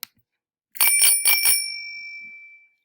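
A bicycle-style bell rings four quick dings in a row, bright and close, then its tone rings out and fades into silence.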